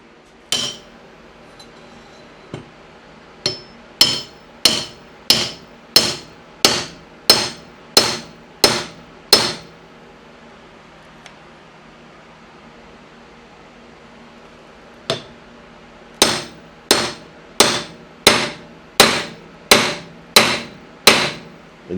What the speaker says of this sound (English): as you're banging it with the hammer.